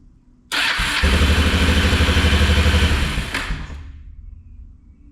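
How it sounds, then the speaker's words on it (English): A quad bike with a faulty ignition switch, started by bridging the wiring: a sudden loud crank catches into a rough, rapid, pulsing engine run for about three seconds, then fades and dies away, with no voices. "Okay, we've got a starting quad bike."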